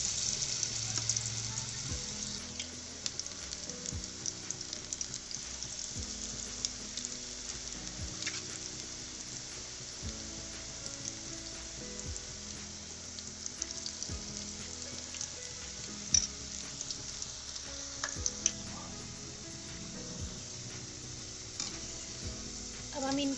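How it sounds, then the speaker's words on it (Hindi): Potato pakoras deep frying in hot oil in a kadhai, a steady bubbling sizzle running throughout, broken by occasional stirring clinks and scrapes, heard close with no talking. "एक कढ़ाई में हमने तेल गरम किया है। अब हम इसमें पकोड़े फ्राई करेंगे।"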